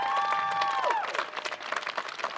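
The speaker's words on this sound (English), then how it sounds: "Yeah, let's clap for that." Crowd at a rally in front of the Michigan State Capitol applauds with dense, moderately loud clapping, following a fading sustained tone at the start.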